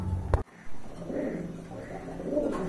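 A pair of milky-coloured Rasgolla pigeons coo in low, soft repeated phrases after a sharp knock and a moment of near silence, faint and close by.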